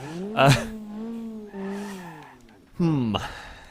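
Car wheels spin while stuck in BeamNG Drive, a whining engine and tyre tone rising and falling in pitch, with a sharp surge near the end; a voice talks over it.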